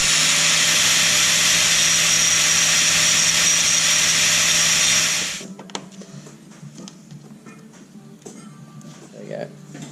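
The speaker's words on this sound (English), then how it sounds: "I'm just going to get the grinder and grind those two pins off there" An angle grinder grinds pins off a broken chain sprocket, a loud, steady high-pitched whine for about five seconds before it cuts out, followed by faint clinks and handling noises.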